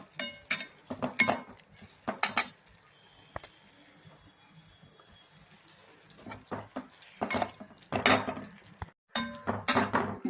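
A metal spoon stirring onion-greens bhaji in a pan, giving sharp scraping clinks in irregular bursts with quiet gaps between, close and fairly loud, with no talk.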